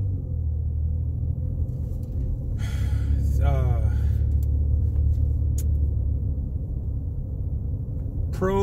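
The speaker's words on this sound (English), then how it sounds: "It gives a whistle when you rev the car lightly." A car fitted with a K&N cold air intake idles with a steady low rumble up close, and a brief rising whistle comes through as the engine is lightly revved.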